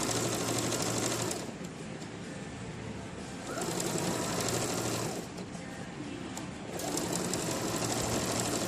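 Electric sewing machine stitching the waistband of a straight-waisted skirt, catching the stiff interfacing and covering fabric, runs in three steady whirring bursts separated by short pauses, close and moderately loud with no talking.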